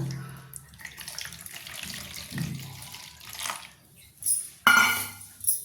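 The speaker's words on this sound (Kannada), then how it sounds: "ಒಂದು ಬೌಲ್ನಷ್ಟು ನೀರು ಹಾಕ್ತೀನಿ ನಾನು" Water runs and splashes from a tap into a bowl, with intermittent pouring bursts and clinks; no voices present.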